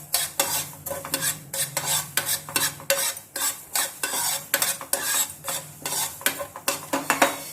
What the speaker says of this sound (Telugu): 1 స్పూను ఆవాలు వేసుకుంటాం. ఈ 2 వేయించుకుందాం.